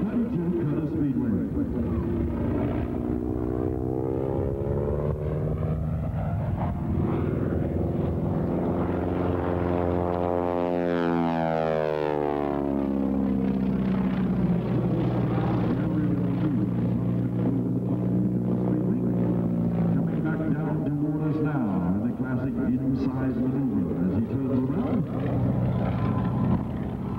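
A 1932 Curtiss-Wright B-14B Speedwing propeller plane flies past at an air show, its engine drone rising and sweeping through with a clear pitch shift, loud and continuous beneath an announcer's voice over the public address.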